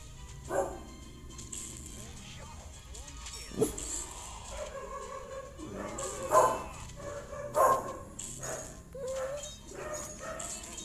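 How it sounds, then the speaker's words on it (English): Dogs barking and yipping in a Kingdom Rush tower defense game, several short barks and whimpers scattered over game sounds, mixed with a person talking. "Dogs."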